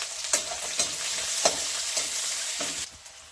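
Onion sizzles steadily in a hot pan while a spoon stirs it, with a few sharp scraping clacks against the pan at irregular intervals over the continuous frying hiss.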